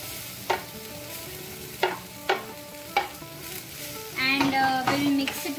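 Potatoes with turmeric are stirred in a pan, a spoon knocking the pan in several sharp, evenly spaced clacks, then a longer scraping shuffle over a soft sizzle, without talk.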